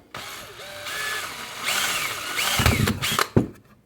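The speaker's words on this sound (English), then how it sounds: "I'll do all the fine tuning with the Dremel. I'm going to go ahead and start with little holes" A Dremel rotary tool drilling small holes in a workpiece resting on a block of wood: a close, loud whining buzz that rises and shifts in pitch over a few seconds, with rattling bursts near the end.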